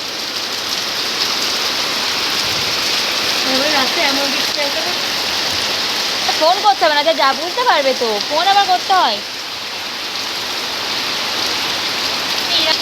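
Steady rain hisses throughout while people hold a conversation over it, their voices rising in the middle.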